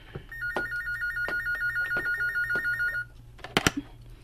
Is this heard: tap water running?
no